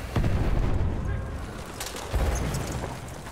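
A grenade explodes in the Battlefield 1 multiplayer shooter, taking out a tank. A loud, deep boom opens the clip and a second heavy blast follows about two seconds later amid rumbling battle noise.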